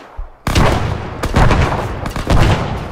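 A frag grenade blast in the Arma 3 combat game erupts loud and close after a brief quiet lead-in, followed by sustained rumbling gunfire and further heavy booms filling the rest of the moment.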